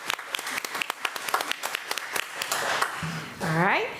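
Audience applause at a school district meeting, with scattered individual claps, then a voice calls out over it near the end.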